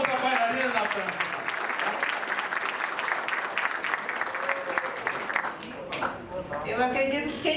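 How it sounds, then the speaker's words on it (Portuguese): Audience applause at a sustainability seminar for a dancer, a lively round of clapping from a crowd with voices over it, easing slightly before picking back up near the end. "Uma salva de palmas da bailarina da praça."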